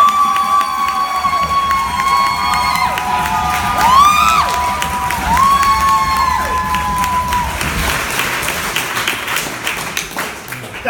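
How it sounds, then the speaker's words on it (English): A live audience at a national poetry slam final in Canberra erupts in loud cheering, whistles and clapping after a performance, a dense sustained crowd roar with shouts rising above it before easing off toward the end. "That was a lot of cheering and clapping"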